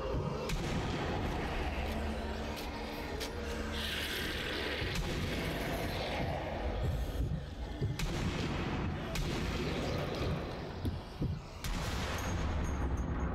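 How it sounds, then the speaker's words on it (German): Sniper rifle shots and booming gunfire in the zombie shooter Zombie Army Trilogy, loud sharp cracks scattered over a dense, rumbling battle din, with no one talking. "Scharfschützengewehr ist geil"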